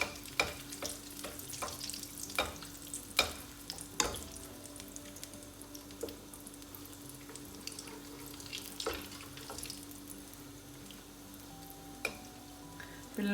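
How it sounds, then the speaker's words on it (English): Koftas sizzle quietly in hot oil over a low to medium flame with a steady crackle, punctuated by sharp clinks and scrapes of a utensil against the pan. "I'm frying it on low to medium flame."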